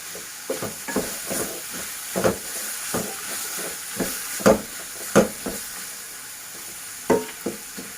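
Chopped green chillies sizzle and fry in a pan of tomato mixture for butter paneer masala, a steady hiss broken by repeated scraping stirs of a spoon against the pan.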